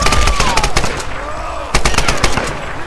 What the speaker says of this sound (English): I have a grenade launcher along with my assault rifle.